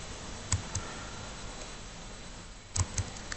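Fingers tap a few keys and press Enter on a computer keyboard, entering numbers for a multiplication operation. The clicks come as two sparse pairs of taps, close and crisp, over a steady background hiss, with no talking.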